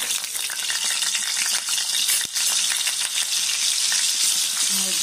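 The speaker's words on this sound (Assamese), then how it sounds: "তেলখিনি গৰম হ'ল এতিয়া আমি ইয়াতে সৰু আলু লৈছোঁ" Small potatoes fry in hot oil for a chicken dish. A loud, continuous sizzle carries occasional stirring clinks and rattles from a utensil against the pan.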